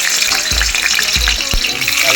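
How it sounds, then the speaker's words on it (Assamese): Potatoes frying in hot oil for chilli fish, a loud, close, steady sizzling hiss broken by a few dull knocks of a utensil against the pan. "চিলি ফিছৰ কাৰণে ফাৰ্ষ্ট টাইম মই আলুটো ফ্ৰাই কৰি ল'ব লাগিব।"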